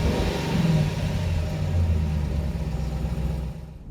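A Dodge Durango SRT engine rumbles and revs close by, its deep growl rising and falling before tapering off.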